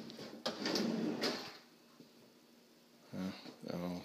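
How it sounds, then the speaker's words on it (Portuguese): Deep soft-close drawers in a large kitchen cabinet slide open and shut with a few muffled thuds and rumbles close by, with voices murmuring briefly near the end. "As gavetas bem fundas nele, todas elas abrem. Ele vai e fecha bem suave."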